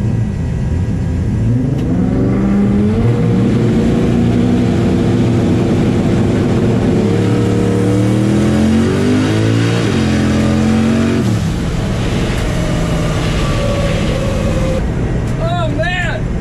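A Mazda RX-7 on a race track roars loudly and close, its engine note climbing and falling through repeated revs and gear changes before settling into a steadier drone.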